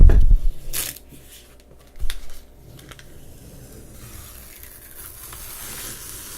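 Protective film peeled off a laser-cut part from Ponoko, with a sharp crinkly tearing burst at the start, another short rustle around two seconds, then faint crackling as the peel continues.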